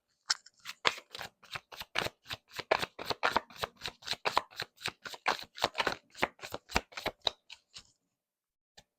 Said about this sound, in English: And this will be the last shuffle.